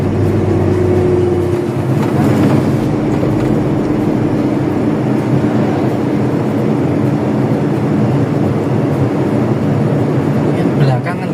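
Modified 1997 Toyota Kijang LGX cruising at about 40 in fifth gear, a steady low engine drone and road rumble from inside the cabin, with people talking over it throughout.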